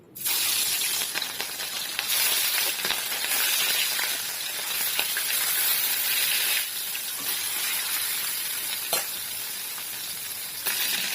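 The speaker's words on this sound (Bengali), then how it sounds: "তেলটা গরম হয়ে গেছে, এখন নুন হলুদ মাখিয়ে রাখা মাছগুলো ভেজে নেব।" Pieces of catla fish rubbed with salt and turmeric fry in hot mustard oil, giving a loud, steady sizzle and crackle with occasional sharper pops, and no talking.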